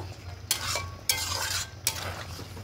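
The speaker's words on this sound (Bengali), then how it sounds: "এই ফোড়নটা এবার এখানে ঢেলে দেবো। খুব ভালো করে মিশিয়ে নেব।" A spoon stirs a tempering into moong and chickpea lentil dal in three scraping strokes, each with a soft sizzle, close and alone without any voices.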